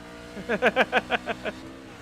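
Heard from inside the cab, a NASCAR truck's engine at Watkins Glen in iRacing snarls in about eight quick, rhythmic revving bursts, loud and close, within two seconds.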